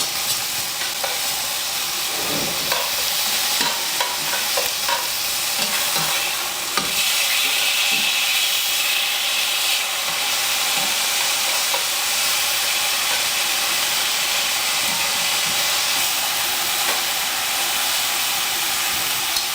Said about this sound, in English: now that tomatoes are sauteed for a few moments